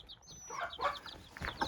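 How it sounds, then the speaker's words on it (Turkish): Hens and chicks inside a colourful backyard coop give soft, short clucks and high peeping in a quick irregular run, close by and fairly quiet. "Ve tavuklarımız yani ayaklarımızın altında."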